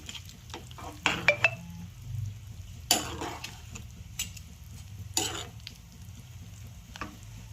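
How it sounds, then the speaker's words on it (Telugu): A spoon scrapes and clatters through okra curry in a pan with bursts of stirring, a few sharp knocks on the metal, and a faint sizzle underneath, with no talk. "ఒకసారి మొత్తం మిక్స్ చేసేద్దాం."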